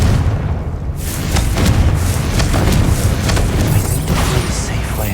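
A blasting-spell explosion from a Harry Potter video game booms out with heavy low rumble, followed by crackling debris bursts and sustained roaring noise over several seconds.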